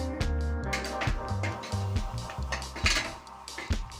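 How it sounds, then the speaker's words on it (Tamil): A spoon scrapes and clinks against a pressure cooker while a chicken biryani mixture with curd and spices is stirred, giving a series of close metallic knocks and scrapes in an uneven rhythm, with no talk. "நல்லா மிக்ஸ் பண்ணி விடுங்க"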